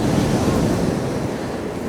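Sea waves surge and break against a seaside ramp on a windy winter day, a continuous loud rushing wash of surf with heavy wind buffeting the microphone throughout.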